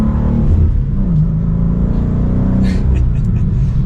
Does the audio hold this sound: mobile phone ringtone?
no